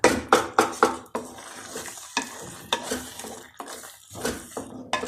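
A spoon stirs and scrapes through soft cooked turnip greens (shaljam saag) with butter and desi ghee in a pot, giving repeated close metallic clinks and strokes over a light sizzle.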